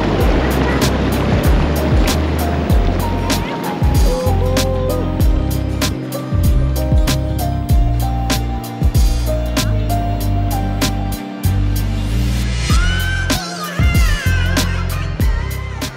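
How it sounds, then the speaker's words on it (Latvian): Big artificial waves rolling through an indoor wave pool at Suntago water park in Poland, a steady loud wash and surge of water with rhythmic thumping beats and swimmers' noise echoing in the hall. "Pāris reizes vēl izbaudījām lielos viļņus baseinā"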